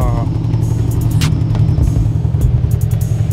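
Cars pulling away one after another from a Car & Coffee meet, a steady loud engine rumble with passing vehicles and faint background chatter.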